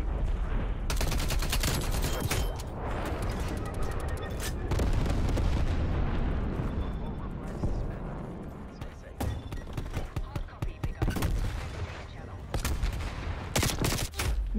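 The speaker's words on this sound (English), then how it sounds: "Bullets going." Gunfire in the first-person shooter Call of Duty Cold War, with dense rapid bursts and repeated single shots crackling loudly throughout, under occasional in-game sounds.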